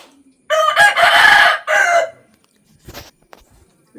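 A rooster at a grandmother's village home gives one loud, close crow lasting about a second and a half, followed by a few faint clucks and quiet.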